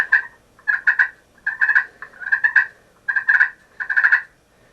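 Soft rolling purrs from a slate turkey call, drawn slowly across the slate, six short bursts in a steady rhythm with brief gaps, close and clear in a quiet setting.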